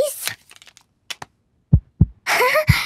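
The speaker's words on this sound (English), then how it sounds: "Dr. Polar Bear can hear Peppa's heart beating." Cartoon heartbeat heard through a doctor's stethoscope: a few soft, low thumps spaced irregularly, with brief brighter noises between them and a burst of a voice near the end.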